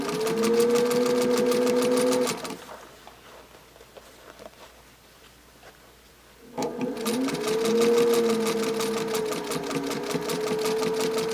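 Sewing machine stitching binding onto a quilt by machine, a steady close whirring run that pauses for a few seconds of near quiet, then starts up again and keeps going.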